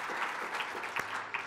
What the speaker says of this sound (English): give them a round of applause. Give them a hand.